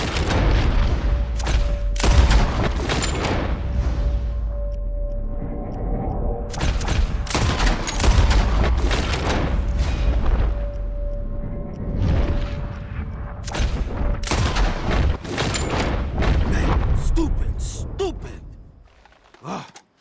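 Gunfire aimed at flying birds in the open-world video game Red Dead Redemption 2, rapid repeated close shots in irregular bursts with booming low ends, mixed with game voices and gasps.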